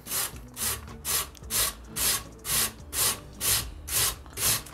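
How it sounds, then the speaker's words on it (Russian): Potatoes rubbed against a coarse grater for potato fritters, making about nine steady, evenly spaced scraping strokes close by, with no talking. "Натираем на крупной терке."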